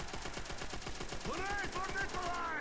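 A submachine gun fires in rapid automatic bursts during a zombie-mode video game round, steady rhythmic shots with brief pauses, under a light layer of game sounds.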